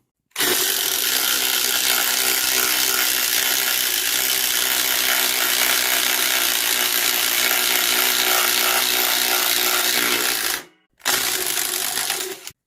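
A 12 volt brushless power tool fitted with a 5.0 battery runs loud and steady, close by, for about ten seconds, cuts out briefly, then buzzes again for a short burst.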